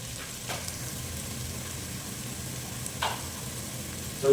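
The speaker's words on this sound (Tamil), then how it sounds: "கொஞ்சம் வதங்கட்டும் அப்படியே" Fenugreek seeds sauté in oil for a village-style mackerel fish curry, a soft even sizzle with a couple of brief stirring scrapes, close and fairly quiet.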